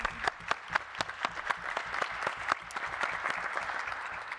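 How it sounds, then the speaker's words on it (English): An award ceremony audience applauds the winner, a fairly small group clapping in a rhythmic, uneven patter that thins toward the end. "Applause again for the winner."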